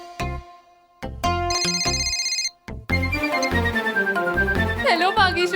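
Phone ringtone plays during a call in a Taarak Mehta Ka Ooltah Chashmah comedy scene, a loud melodic electronic tune of bright repeating notes over a bass beat, pausing briefly before resuming.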